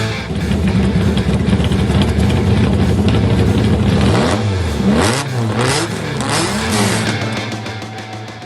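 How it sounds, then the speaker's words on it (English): A TVR Cerbera engine revs hard and loud up close, repeated sweeping climbs and drops in pitch over a sustained roar, settling back toward the end. "All right, I love that car sound."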